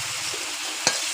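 Fried prawns being lifted out of a sizzling pan of hot oil, a steady crackling fry with a brief scrape or clink of the utensil near the end, close and alone.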